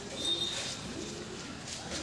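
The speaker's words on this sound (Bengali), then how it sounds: "এটা হচ্ছে একটা দেশি ব্লাড লাইনের কালশিরা পায়রা" Kalsira pigeon of a local desi bloodline cooing softly at a loft, low murmuring coos under a steady background hiss, with no talk.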